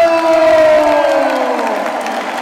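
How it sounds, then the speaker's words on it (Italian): Crowd cheering and applauding at an Italian featherweight boxing title fight, a loud roar with a sustained tonal whistle or horn sliding downward, fading gradually over two seconds. "Ma un grande applauso va anche al pugile di casa, Mattia Ottinero!"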